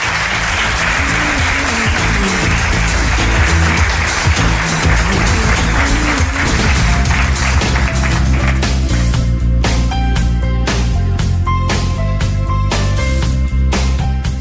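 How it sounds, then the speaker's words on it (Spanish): Audience applause at a cultural hall event after a talk, a dense continuous clapping wash with sharper individual claps, with music sounding over it in the second half. "Os pido un aplauso para todos ellos."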